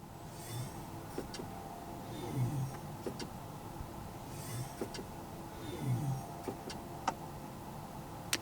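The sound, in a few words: Mercedes-Benz EQS drive mode selection sounds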